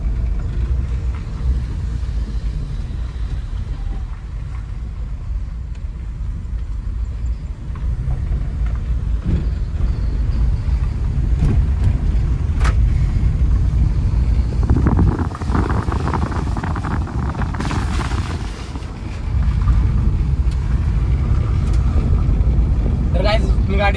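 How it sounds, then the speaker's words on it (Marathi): A car driven by a learner in second gear gives a steady low road and engine rumble with wind buffeting throughout, and a voice talks over it at times. "तर काय मी गाडी चालवतोय."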